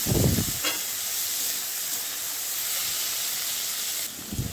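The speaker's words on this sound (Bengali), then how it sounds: "এইবারে টমেটোটাও আমি খুব ভালোভাবে ভেজে নেবো" Steady sizzling hiss of tomatoes frying in a pan for dal fry, continuous and close, with a few soft clatters at the start and end.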